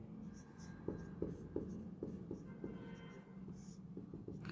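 Pen scratching on paper while working a Class 10 circle-area maths problem, a series of soft short strokes and taps in a quiet room, close and faint, with no talking.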